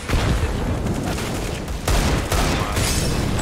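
Rapid gunfire bursts from a Counter-Strike match on the Mirage map, a dense, loud fusillade running continuously through the short stretch with sharper volleys near the end.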